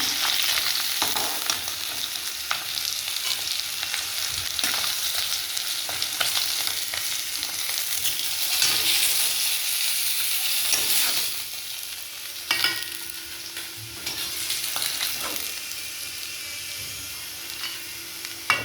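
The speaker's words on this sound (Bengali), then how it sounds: "কড়াই তেল দিয়ে দিয়েছি। হঠাৎ করে মাছগুলো সব ভেজে নেব।" Turmeric-coated rohu fish pieces fry in hot oil in a wok, giving a continuous dense sizzle and crackle with a few louder spits and bursts, close and with no talk.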